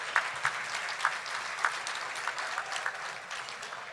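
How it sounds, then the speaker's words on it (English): An audience at a school district awards ceremony claps in a steady, modest round of applause, with scattered sharper claps over a soft, fairly distant wash. "let's give Sports Stop a round of applause"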